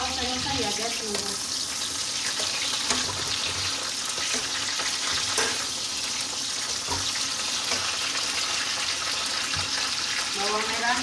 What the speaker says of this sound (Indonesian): Sambil kita oseng-oseng ya guys, tunggu.